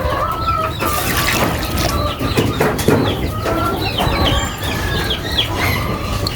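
A flock of pet chickens, hens among them, clucks and squawks constantly up close, with overlapping calls, a few louder cries and some wing flapping throughout.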